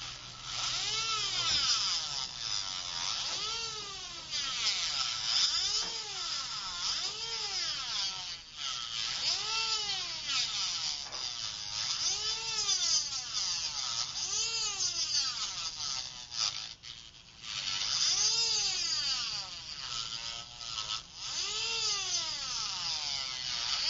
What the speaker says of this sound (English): that, of course, is simply done using an acrylic burr and just trimming away the acrylic following the white